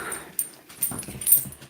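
A dog gives a few short, soft whimpers and whines close by, three brief yelps spaced a fraction of a second apart in a quiet room.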